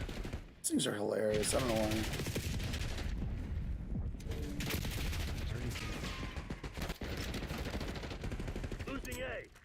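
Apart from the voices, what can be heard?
Archangel missiles firing in video game Black Ops 6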